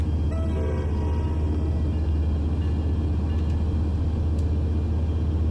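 A deep, steady diesel engine rumble with low droning tones, continuous and fairly loud, as an ALP45DP bi-mode locomotive in Train Sim World pulls away in diesel mode on the Morristown Line.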